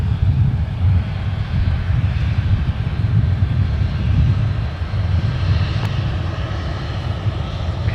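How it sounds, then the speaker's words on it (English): A Boeing 757-200 charter jet taxis and lines up on runway 17 at Minneapolis–St. Paul airport. Its engines give a steady low roar that stays loud and constant throughout, with no talk over it. "there is our new Pacific 757-200 charter lining up with runway 17"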